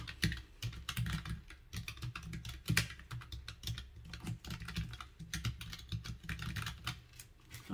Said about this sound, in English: You can kind of see how it's gonna sound when you're typing on it.